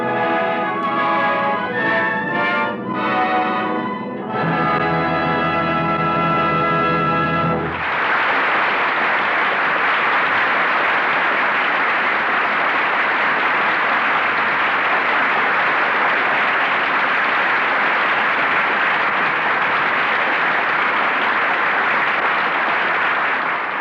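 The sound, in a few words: studio audience applauding the final curtain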